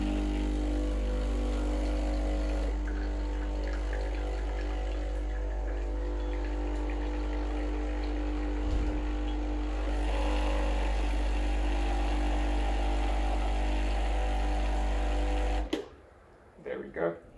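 Breville Barista Express BES870 espresso machine pulling a blank shot, a loud continuous pump buzz and rattling hum that runs steadily for many seconds, then cuts off abruptly, leaving a few faint clicks.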